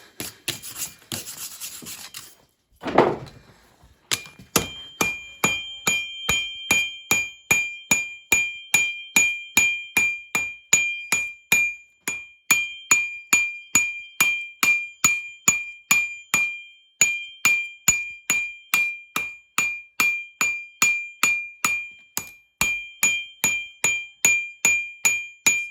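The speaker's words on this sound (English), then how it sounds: "Now just watch and allow me to do a little bit of the forging without losing all my heat." A hammer strikes a hot knife blade on an anvil during forging, a long run of sharp, evenly spaced ringing blows with a clear metallic tone and brief pauses where the blade is flipped.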